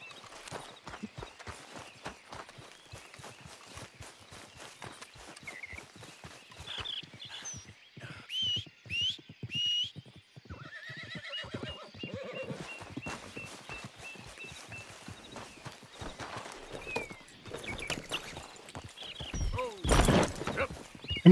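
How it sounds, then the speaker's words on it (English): Horse hooves clip-clop steadily on the ground in Red Dead Redemption 2, a fairly quiet even walking rhythm running throughout, with occasional voices and game sounds layered over it. "Come on, horse."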